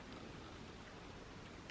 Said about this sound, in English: I don't know if you guys can hear the rain in the background